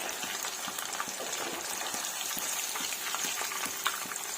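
Chicken pakoda pieces half-frying in hot oil give a steady, dense bubbling sizzle with faint scattered pops, even and continuous at moderate level, no talking.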